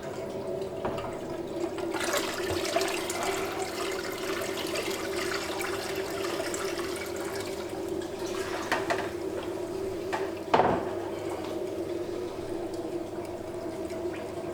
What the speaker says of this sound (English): I'm going to tip in the water.